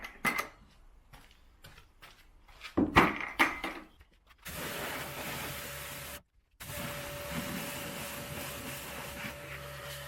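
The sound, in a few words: rinsing a car with water after fallout remover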